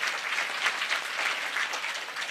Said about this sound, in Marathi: त्यांच्यासाठी एकदा जोरदार टाळ्या होऊ द्या.